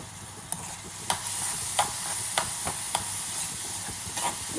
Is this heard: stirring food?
yes